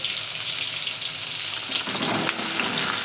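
Chopped ridge gourd fries in a pan of hot oil, a loud, dense, continuous sizzle heard up close with no voices over it.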